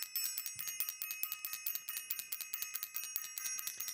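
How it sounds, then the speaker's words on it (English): A small bell rung over and over in a rapid, steady rhythm, bright and ringing, fairly soft and close, with no talk over it. "I want to ring the bell for Self-Invested."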